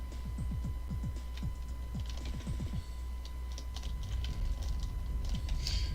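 Computer keyboard keys clatter during a game, quick bursts of clicks with short pauses between them, fairly quiet and close over a steady low background hum, with no talking.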